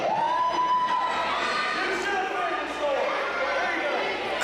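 A wrestling crowd cheers and chatters throughout an independent wrestling show, a broad steady roar with a few shouts rising above it, heard alongside a commentator's voice.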